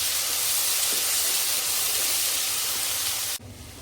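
Ginger garlic paste sizzles steadily in a pan while sautéing for chicken biryani, a loud, constant hiss that runs close and uninterrupted before dropping away abruptly near the end.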